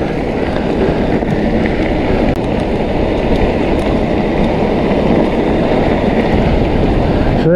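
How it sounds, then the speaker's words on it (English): A northerly wind blows across the microphone at the top of a forest fire-road climb, a loud, continuous rushing buffet that fills the whole stretch with no let-up. "Just coming to the top of the climb here and just start to feel that northerly breeze now."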